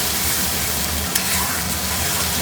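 Spice mix being sautéed in oil for a fish curry gives a dense, continuous close sizzle and frying hiss, with a single faint clink of a utensil partway through.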